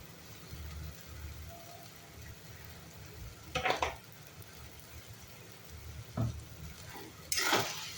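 Quiet stirring of roasted peanut powder into eggplant bharta in a pan, with soft low scraping, a faint sizzle, and a few brief spoon or utensil clatters.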